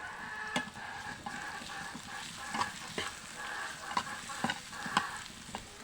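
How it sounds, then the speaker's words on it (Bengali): Potatoes sizzle and crackle in a hot pan over a village clay stove while a utensil stirs now and then, producing sharp clinks and scraping over the steady frying hiss. "আর এখানে আলু ভাজাটা এখন চড়িয়ে দিয়েছি"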